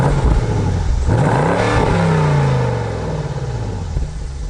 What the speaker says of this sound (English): it looks like a dual exhaust, but you actually have a quad tip in there, and it sounds nice and deep,